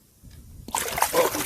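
A caught fish is released back into outdoor water with a sudden close splash after a quiet moment, followed by a second of sloshing and rushing water.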